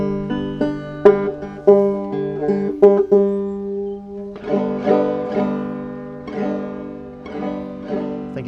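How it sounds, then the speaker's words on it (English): A slightly out-of-tune clawhammer banjo plays "Boil Them Cabbage Down" with bright plucked notes and a bouncy frailing rhythm. It starts with sparse picked notes, then moves into fuller strummed strokes, close and clear with no talking. "Ooh, banjo sounds out of tune,"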